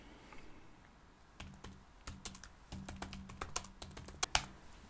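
Close, crisp keyboard typing in irregular bursts of key clicks, quiet at first and then steady, with no talking.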